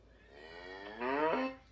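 Cow moo sound effect from a Soundtrap library, a single drawn-out lowing call rising and swelling toward the end, clean and alone.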